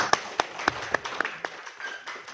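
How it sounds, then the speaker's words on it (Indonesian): A few people at a keynote lecture clap in sparse, separate claps, about eight distinct slaps spaced unevenly and fading out within a couple of seconds, fairly quiet. "Tepuk tangan dulu."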